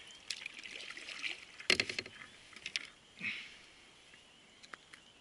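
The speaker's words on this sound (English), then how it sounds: "I'm gonna go paddling around the lake, trolling." Paddle strokes from a Pelican Catch 120 kayak on a lake, a few soft watery splashes and drips spaced irregularly, close and fairly faint against a quiet background.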